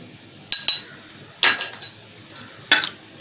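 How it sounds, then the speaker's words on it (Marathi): A spoon stirs chapati roll filling seasoned with salt and chili powder in a pan, three clear metallic clinks and scrapes spaced about a second apart over a faint background sizzle, close by, with no talking. "हलवून घेऊया."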